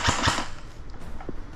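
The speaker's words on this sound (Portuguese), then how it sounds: "tiro seco. Primeiro tiro." A single sharp airsoft shot cracks out during an outdoor skirmish game, followed by a faint second pop, with no talk over it.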